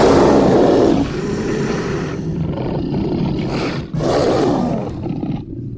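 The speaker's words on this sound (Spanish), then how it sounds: "este es el sonido de un tiranosaurio" A Tyrannosaurus rex roar sound effect from a dinosaur exhibition: a loud, deep, rumbling roar that swells, briefly dips, then surges again before fading out, with no voices.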